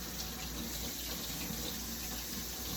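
Warm water runs steadily from a kitchen tap while cast iron pans are being washed, a constant close hiss and splash with no break.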